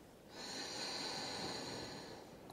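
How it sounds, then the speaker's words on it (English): A single long, breathy inhale through the nose with a constricted throat, a hissing, throaty rasp like ocean surf, rising and fading over a couple of seconds. "Breathe in through your nose with a slight constriction in your throat so that your inhale makes a sound"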